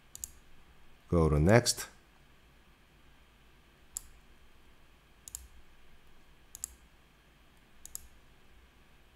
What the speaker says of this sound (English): keep pressing your mouse button and drag it